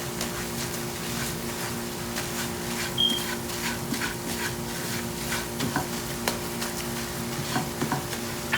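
A spatula scrapes and turns a besan mixture for mohanthal in a pan over very low heat, giving soft repeated stirring strokes over a faint, steady sizzle.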